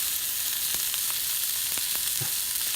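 Steak browning in a frying pan, a continuous bright sizzle with scattered pops and a few soft stirring scrapes, close up and with no voices.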